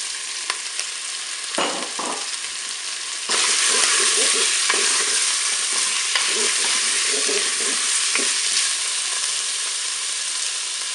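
Chopped onion hits hot fat in a Cookeo multicooker, setting off a loud, steady sizzle with occasional stirring scrapes and crackles, heard alone without speech.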